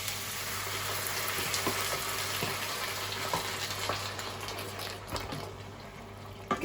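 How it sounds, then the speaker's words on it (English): Tomatoes sizzle steadily in a hot frying pan, a constant crackling hiss with occasional faint pops and a low background hum. "get that sizzle going on."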